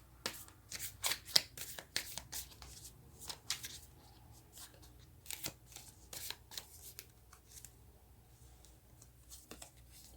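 Tarot cards being shuffled by hand, a quick series of close, crisp riffling bursts and soft slides, irregular and quiet, with no talking.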